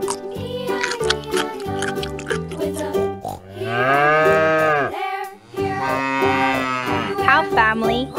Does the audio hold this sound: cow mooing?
yes